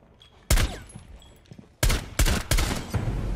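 Gunfire in Rainbow Six Siege sounds as loud, sharp reports: one heavy shot, then a cluster of rapid shots after a short gap, with a booming echoing tail.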